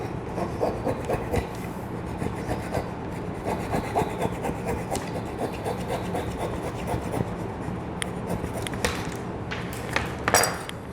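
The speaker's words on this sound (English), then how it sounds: "now we're going to employ the flush cut saw" A flush cut saw rasps across wooden plugs, cutting them flush with a wood surface in a steady run of close, scratchy back-and-forth strokes, with a few sharper clicks near the end.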